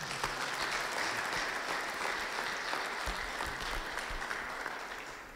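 Steady, enthusiastic applause from a church congregation, many hands clapping continuously at moderate volume and tapering slightly toward the end, with no voices on top.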